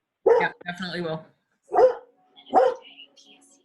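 A pet dog barks a few times close by in a home during an online utilities authority meeting, the sharp bursts alternating with someone talking.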